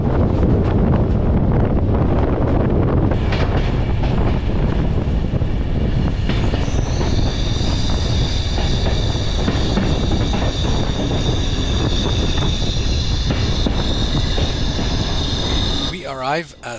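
SKPL heritage passenger train rolling on rails toward the electrified Wrocław–Kłodzko main line, a steady loud rumble of wheels and carriage with wind buffeting, high wheel squeal joining partway and lasting until it cuts off near the end.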